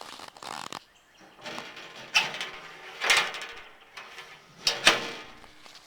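A mailbox door fitted with a small flag indicator is opened and handled, giving several close mechanical scrapes, clunks and squeaks spread irregularly over a few seconds.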